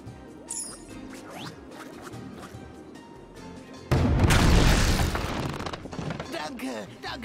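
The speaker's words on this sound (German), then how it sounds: "Benutze Aktion, um die Kanone abzufeuern." Cannon fire and a wall smashing in the Skylanders: Spyro's Adventure video game, a sudden loud, broad crash that follows a stretch of game music and effects and then rumbles on with debris.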